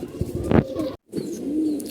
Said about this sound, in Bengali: এই যে একটা কবুতর দেখতে পাচ্ছেন